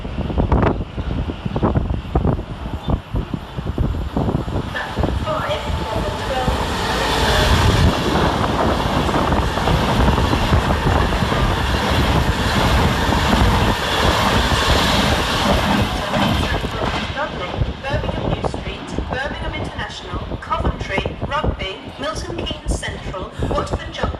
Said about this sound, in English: Passing fast through the middle 5 minutes late is 390107, working 1 Sierra 52 for Avanti West Coast